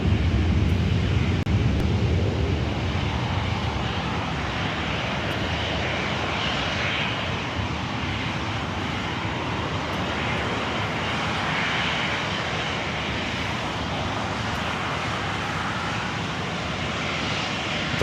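An Airbus A321 jet in thank-you livery at LAX gives off a steady, loud engine roar and rushing hiss that holds evenly for the whole stretch, with no voices over it.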